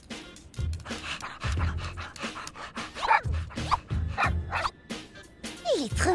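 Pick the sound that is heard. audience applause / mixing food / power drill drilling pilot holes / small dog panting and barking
small dog panting and barking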